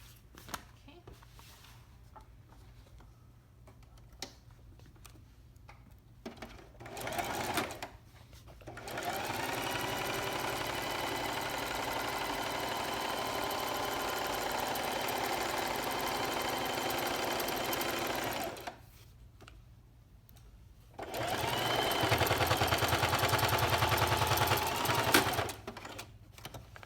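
A sewing machine runs in two long bursts while stitching the side seam of a tote bag, a steady close whirring hum broken by short pauses and quieter handling in between.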